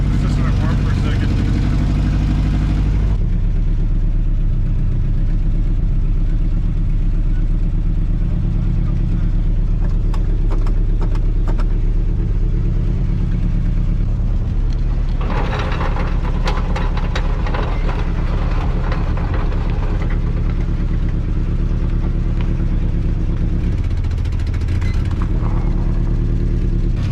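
A Datsun car engine idles steadily while warming up, with no choke fitted, a loud continuous low rumble running throughout with some brief higher rattles, under people talking nearby.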